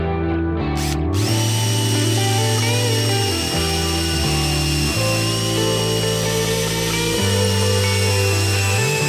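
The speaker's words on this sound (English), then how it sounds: "we're going to drill a hole through all the way through the bottom antler" A power drill whines loudly and steadily, its motor pitch dipping and rising as it bores through deer antler, with brief pauses in load.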